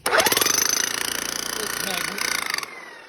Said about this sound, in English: We call it the Bauer. Massive sort of roto hammer thing.